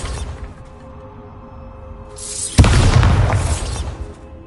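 A Bombarda spell blast in the Hogwarts Legacy video game: a low background hum, then a sharp booming explosion that breaks into a loud, rumbling, debris-filled roar lasting a couple of seconds before fading.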